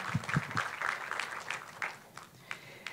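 Audience applause greeting a guest speaker at a career talkshow, a scattered patter of claps that is fairly loud at first, then thins and fades toward the end.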